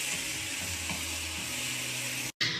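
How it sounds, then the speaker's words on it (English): Tomatoes sizzle steadily in a hot pan, a continuous close frying hiss with faint stirring sounds underneath, broken by one brief dropout near the end. "So I put my tomatoes in, and that's all cooking away really nicely."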